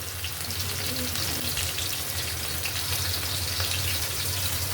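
Chopped onion frying in hot oil sends up a steady, dense sizzle with a crackling hiss that holds evenly throughout, close and continuous with no voices.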